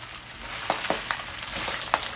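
Fresh garlic drops into a hot pan and fries with a steady crackling sizzle, punctuated by several sharp pops and spatters.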